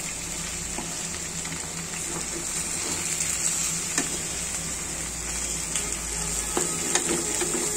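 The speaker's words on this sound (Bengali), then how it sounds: "মাছগুলো কষিয়ে নিব।" Rui fish with ginger, garlic, onion and spices sizzling and frying steadily in a pan, a continuous close hiss with occasional stirring scrapes and no voices.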